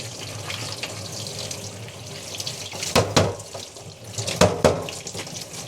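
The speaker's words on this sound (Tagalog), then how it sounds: "Hugasan ko muna yung okra." Kitchen tap runs steadily as okra is rinsed under it, close and fairly loud, with a few splashes and handling sounds near the end and no talking.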